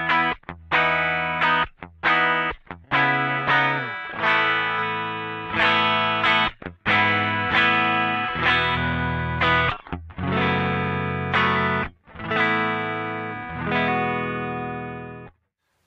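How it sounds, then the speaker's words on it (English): Electric guitar strummed with moderate to high intensity, clean and dry with no effects, moving from bridge to middle to neck pickups; repeated ringing chords with short breaks between strums, loud and alone. "I'm going to be strumming with a moderate to high intensity from my bridge to my middle to my neck pickups"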